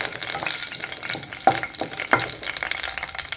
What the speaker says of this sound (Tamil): கொஞ்சம் பிரியாணி இலை, கொஞ்சம் கல்பாசி, இதெல்லாம் போட்டு நல்லா கொஞ்சம் பொரியட்டும்.